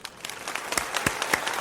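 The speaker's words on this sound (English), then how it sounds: "let me just give that one a massive round of applause" An audience gives a round of applause after a performance, a dense, steady patter of many hands clapping at moderate distance, briefly and without pause.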